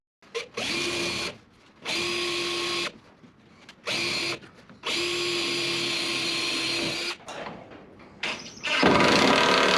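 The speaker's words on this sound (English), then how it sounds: "So I'm going to drill a hole there, screw it up there" A power drill whirs in several bursts of a few seconds each while drilling holes to install a Genie 2055 garage door opener, separated by brief pauses, ending in a harsher, louder grinding stretch.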